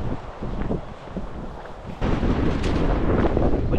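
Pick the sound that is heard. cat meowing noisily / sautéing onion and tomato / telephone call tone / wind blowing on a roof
wind blowing on a roof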